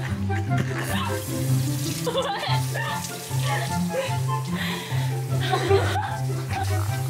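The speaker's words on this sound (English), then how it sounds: "Can I wash my hands?" Water runs steadily from a tap while hands are washed at a sink, under the chatter and laughter of siblings playing a game.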